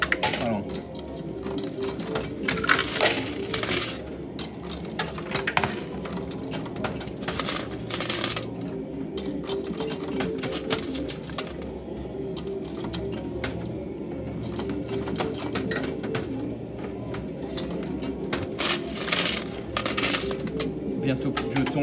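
Coins and tokens clatter and drop inside an arcade coin pusher machine, a steady stream of small metallic clinks with a busy arcade hum behind and occasional speech.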